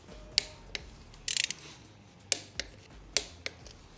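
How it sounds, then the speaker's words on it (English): Torque wrench tightening screws on a Harley external breather gives sharp, isolated clicks and a short rapid ratcheting burst, spaced irregularly against a quiet background. "go ahead and torque it down to 120"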